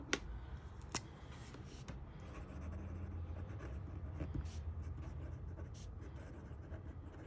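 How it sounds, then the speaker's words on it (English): A pen scratching and dragging across paper, faint and close, with a few sharper ticks early on and a steady low background hum underneath. "I feel like my pen is dragging when I write"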